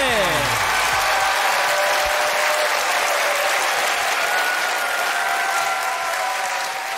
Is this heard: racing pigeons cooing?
no